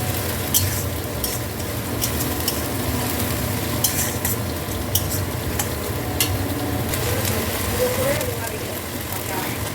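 Ginger garlic paste fries with browned onions in a pan for chicken kosha, a steady close sizzle under repeated scraping stirs and light utensil clinks, with faint talk in the background.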